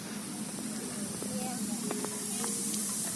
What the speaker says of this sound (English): I notice the water feature is now active again.